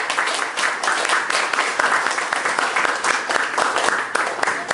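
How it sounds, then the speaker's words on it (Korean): Sunday-service congregation in a church breaks into applause of thanks as a guest pastor comes forward, crisp overlapping claps in an uneven, lively rhythm, fairly loud and close, with faint voices mixed in. "하나님께 감사의 박수를 올려드렸으면"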